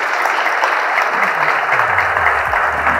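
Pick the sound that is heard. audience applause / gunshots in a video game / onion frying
audience applause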